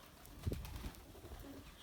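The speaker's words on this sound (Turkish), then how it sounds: "benim en büyük paçalı güvercinlerim şu iki tane var" Large feather-footed pigeons give a brief, soft coo at close range, a low throaty burst followed by a quieter trailing murmur, with no talking.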